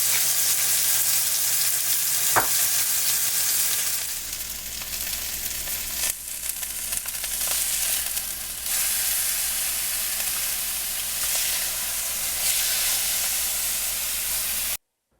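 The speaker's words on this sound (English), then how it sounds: "This probably took around 5 minutes or so to grill the other side." A seasoned turkey burger patty sears on a grill with a loud, continuous hissing sizzle that swells and dips slightly, broken by a single sharp tap early on, with no talk, then cuts off abruptly.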